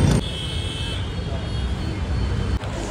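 Night traffic jam on a road in Dombivli, a steady rumble of idling and passing vehicles close by with a brief horn-like tone, under faint voices.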